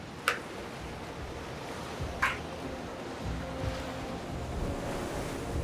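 Ocean waves wash and surge continuously with a soft hiss of water and wind, with a couple of brief sharp splashes early on and no voices.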